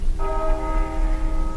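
Bells of a newly built monastery church in Argeș are test-rung by bell founders, giving a clear sustained tolling with a rich ringing tone, struck just after the clip begins and sounding close and loud throughout.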